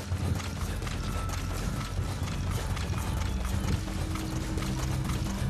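Horse hooves clip-clop steadily in Metal Gear Solid V, a continuous rhythmic trot mixed with mechanical gear-like clatter and game ambience, loud and close with no talk over it.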